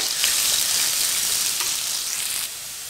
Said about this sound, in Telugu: ఇవి బాగా ఆయిల్లో ఫ్రై చేయాలండి.